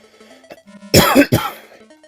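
A short, harsh coughing fit brought on by laughing, a couple of loud close coughs and throat-clearing bursts against a quiet game-music background.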